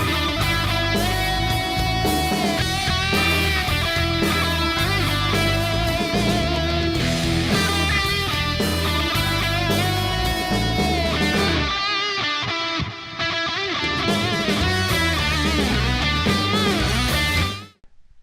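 Electric guitar playing the second verse of a song lesson in a full band arrangement with drums and bass, loud and dense throughout, thinning briefly near the end before stopping.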